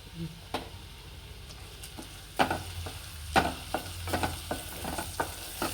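Garlic and chana dal fry in a pan for red sauce pasta, with a soft sizzle underneath and a run of sharp spoon clicks and scrapes against the pan as they are stirred.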